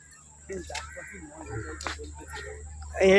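A bird gives a few harsh calls amid background voices, ending in a loud, close, raucous cry.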